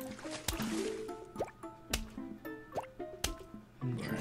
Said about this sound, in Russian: В воду кто-то уже прыгнул